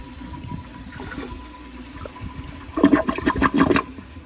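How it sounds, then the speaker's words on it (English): A 1987 Kilgore Aladdin toilet runs water faintly, then breaks into a loud, gurgling siphon flush that rushes for about a second before cutting off. "let me see if I can get this toilet to just siphon for y'all, so you can see how powerful the siphon is on this toilet"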